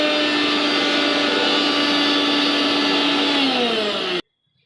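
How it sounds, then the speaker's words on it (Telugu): A mixer grinder whirs loudly and steadily, blending banana milkshake ingredients at home, its pitch sagging slightly near the end before it cuts off abruptly into silence. "ఇప్పుడు వీటన్నిటిని ఒకసారి గ్రైండ్ చేసుకోవాలి."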